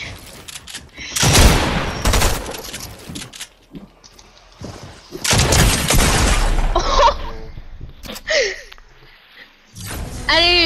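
Gunfire from Fortnite arrives in rapid bursts of close, loud shots separated by short lulls, mixed with game effects and a final sweeping electronic tone.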